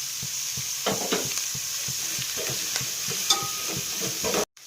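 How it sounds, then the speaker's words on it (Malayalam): Two chopped onions and ten pieces of shallot sauté in a pan, a steady sizzle broken by repeated rhythmic scrapes and taps of a spoon stirring against the pan, close and fairly loud, ending with a brief clatter. "അരിഞ്ഞു വെച്ചിരിക്കുന്ന 2 സബോളയും 10 കഷ്ണം ചുമന്നുള്ളി ഇട്ട് വഴറ്റാം."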